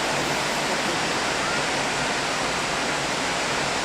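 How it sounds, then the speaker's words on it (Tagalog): Heavy rain pours down steadily as a dense, loud, unbroken hiss that fills the whole moment with no pauses. "Lakas ng ulan."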